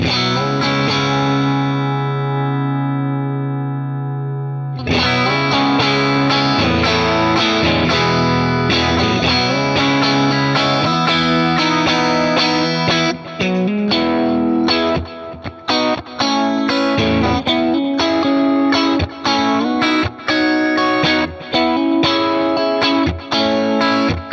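Electric guitar played through a clean, reverb-soaked Fender Deluxe Reverb amp: a sustained chord ringing out, then a busy run of strummed and picked notes.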